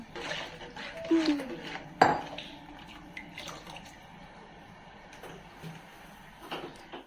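Spoon scraping and clinking against a cooking pot while toor dal is stirred for Nellore-style pappu charu, light irregular metallic taps and a sharp clank, with faint watery movement underneath.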